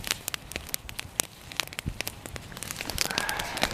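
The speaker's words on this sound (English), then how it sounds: "I see that the water's boiling, so that's safe now." Water coming to a hard boil in a lidded pot over a campfire in Patagonia, a dense crackle and irregular popping that thickens into a steady bubbling hiss, close and moderately quiet.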